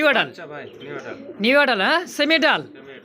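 Pigeons cooing close by among a collection of pet pigeons, a few rolling throaty coos in quick succession, loud and near.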